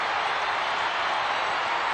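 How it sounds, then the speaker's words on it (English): A capacity wrestling crowd cheers after a submission win, a dense, continuous roar of many voices that stays loud and even from start to finish. "This capacity crowd is electric."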